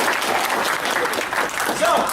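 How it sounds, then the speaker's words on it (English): Applause from a convention comedy-hour audience, a steady, full wash of many hands clapping with a few faint voices mixed in underneath. "Give her a round of applause."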